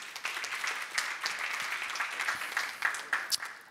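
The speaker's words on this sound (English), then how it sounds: "a round of applause for Mike and his team would be fantastic" Audience applause at the D10e Bucharest conference for the show's organiser Mike and his team: a steady, bright crackle of many hands clapping, quieter and somewhat distant, holding throughout with a few sharper claps near the end.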